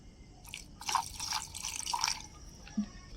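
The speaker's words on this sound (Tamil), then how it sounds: "லேசாக தண்ணி கொஞ்சம் ஊற்றிக்கலாம்." A short trickle of water pours and splashes into a grinder jar of cashews for about a second and a half, fairly close and quiet.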